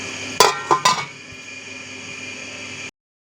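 A metal lid clanks down onto a cooking pot of chana dal with lauki in a home kitchen, two or three sharp close clinks in quick succession, then a steady low hiss of simmering until it stops.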